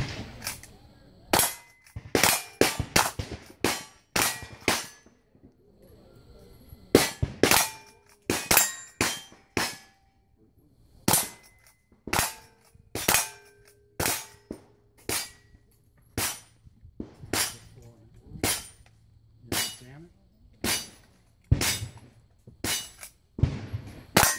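Gun slam firing, a long series of sharp, loud cracking shots in quick irregular bursts with short pauses between groups, each report ringing briefly, with occasional voices in the background.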